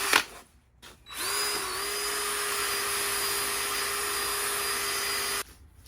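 A cordless drill spins an 800-grit 3M headlight restoration sanding pad against a car's foggy, yellowed plastic headlight lens, whirring loud and steady at close range for about four seconds after a brief start, then stopping.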